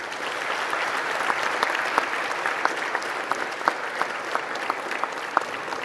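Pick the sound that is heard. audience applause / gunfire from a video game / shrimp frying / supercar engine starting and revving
audience applause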